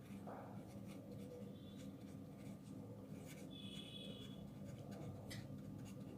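Pen writing on paper during a math lesson, a faint continuous scratch with brief stroke bursts, close up over a steady low hum.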